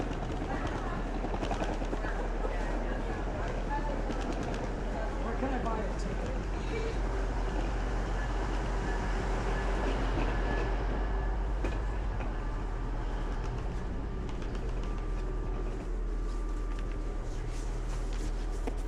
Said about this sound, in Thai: รถไฟก็ออกเดินทางไปยังโตรอนโตเพียร์สัน International Airport แล้วครับ